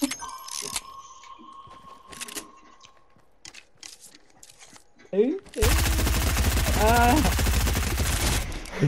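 Rapid gunfire in a prop hunt video game bursts out loud and continuous in the second half, following sparse clicks and short shots, with a voice talking over it.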